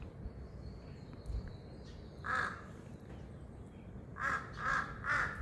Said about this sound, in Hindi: एक पक्षी की आवाज़ आ रही है, कोई बड़ा सा पक्षी सामने बैठा हुआ है।